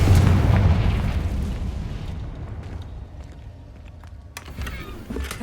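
A Confringo blasting curse goes off in Hogwarts Legacy, a heavy booming explosion that hits hard at the start and rumbles away over a few seconds, followed by a smaller crackling burst near the end.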